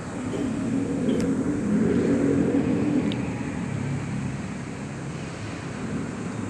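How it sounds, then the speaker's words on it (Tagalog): A 2014 Toyota RAV4 drives along steadily, giving a loud, continuous road and engine rumble with wind noise that swells slightly, then holds even with no talk. "Aking 2014 na Toyota RAV4. Papunta ng work."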